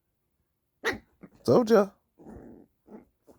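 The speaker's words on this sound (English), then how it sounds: "I told you he's a vicious little dog." A small puppy biting, with short sharp barks and a longer rough growl, close and loud, broken by pauses while someone talks in between.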